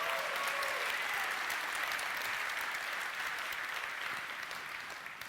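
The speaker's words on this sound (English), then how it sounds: "you got to clap at the old stuff too" Sustained applause from a keynote audience at an NVIDIA GeForce gaming event, dense and steady clapping throughout, fading slightly toward the end.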